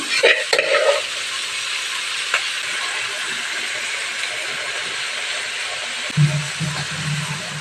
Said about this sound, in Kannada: ಇವಾಗ ಈರುಳ್ಳಿ ಫ್ರೈ ಆಗ್ತಾ ಇದೆ ಇವಾಗ ಬೇಯಿಸ್ಕೊಂಡಿರೋಂಥ ನುಗ್ಗೆ ಸೊಪ್ಪನ್ನ ಹಾಕ್ತಾ ಇದ್ದೀನಿ